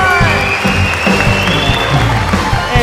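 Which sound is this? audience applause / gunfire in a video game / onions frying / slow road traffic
audience applause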